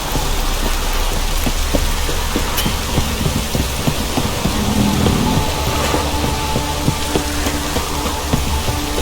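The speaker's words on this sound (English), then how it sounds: "This downpour's a bastard" Heavy rain pours steadily in The Witcher 3: Wild Hunt, a dense, hissing wash, with scattered drops tapping on surfaces throughout.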